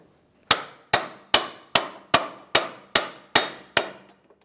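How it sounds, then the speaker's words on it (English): Nine sharp metallic hammer taps at an even pace, close and loud, each ringing briefly, knocking a CV axle out of the wheel bearing on a 2011-2016 Hyundai Elantra. "now I'm just going to tap the axle and let it fall out of that bearing"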